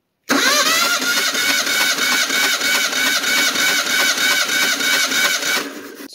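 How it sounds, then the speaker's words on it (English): A 1976 Chevy LUV 4x4 engine cranking over during a compression test, with a rapid rhythmic chugging, loud and close, that runs for several seconds and then stops. "We'll pretty much turn over the engine kind of until we see the gauge not jumping very much"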